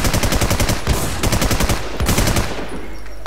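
Rapid automatic gunfire in the video game The War Z, loud bursts of closely spaced shots with brief pauses between volleys and no speech.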